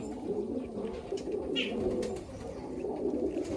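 Pigeons in a loft near Baruipur, Kolyanpur coo in a low, continuous murmur at moderate distance, with a short chirp-like burst near the middle and no one talking.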